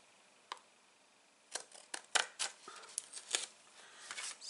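Crisp snips and short crunching cuts of scissors through stiff card, irregular and close, following a quiet pause.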